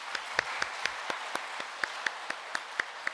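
Sparse, slow applause in a church congregation after a choir performance: a handful of distinct, fairly close claps spaced unevenly over a quiet room, with no voices.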